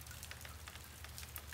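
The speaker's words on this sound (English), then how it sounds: "I think the rain's kind of pretty today." Steady rain falls outdoors, a dense, even patter of drops on surfaces with occasional brighter splashes, continuous and moderately close with no voices.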